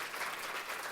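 Audience applause at the close of an ORE Sports outreach session, a brief continuous wash of clapping with no pauses.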